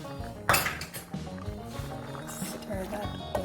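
A utensil stirs cheese, including mozzarella, into a dish in a home kitchen. It makes repeated close scraping and clinking against the pan or bowl, with a sharper knock early on, under soft background sound.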